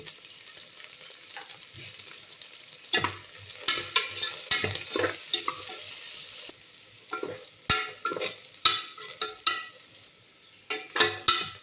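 Onions with green chillies and turmeric fry in a pan for a masala pesarannam lunch-box dish, a steady sizzle that breaks into loud, repeated scraping stirs, grouped in bursts through the second half, with no talking.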